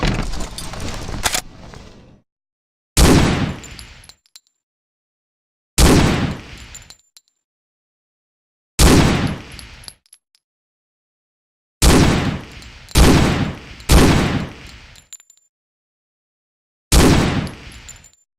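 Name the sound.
gunfire during weapons training in Hidden & Dangerous 2 video game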